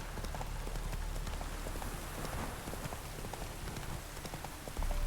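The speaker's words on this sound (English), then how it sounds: "we're just gonna ride our horse over there since it's pretty close." Roach the horse clip-clops along in the Witcher 3 video game, a quick, steady patter of hoofbeats under a wash of rain-like background noise, moderately faint.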